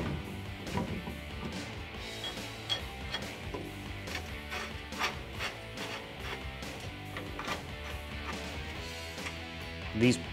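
A ratchet tightening bolts while a rear bumper is installed on a 2014-2021 Toyota Tundra: repeated clicking pawl strokes in an irregular rhythm, close and moderately quiet, against faint background noise.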